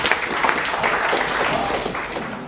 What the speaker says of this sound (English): Please give a big round of applause for the question.